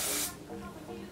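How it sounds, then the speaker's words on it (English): Hairspray from an aerosol can misted onto a chunky side fishtail braid: one loud, steady hiss lasting about a quarter second, then fading into quiet room tone. "So now go ahead and spray it with some hairspray."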